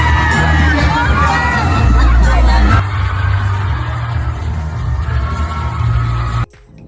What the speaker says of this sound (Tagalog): Sigaw ng sigaw ang mga manonood sa mall sa sobrang kilig.